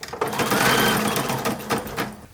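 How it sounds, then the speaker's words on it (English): Sewing machine stitching patches onto a cap for a 1940s WWII uniform, a close, loud rapid mechanical whir that runs steadily and slows slightly near the end. "And then we're also going to sew on the other side of the caps."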